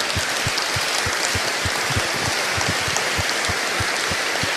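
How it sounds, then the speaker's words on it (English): An audience applauds a speaker after a public engagement talk. The clapping is steady and dense throughout, with no voices. "you can give a big round of applause to the Speaker"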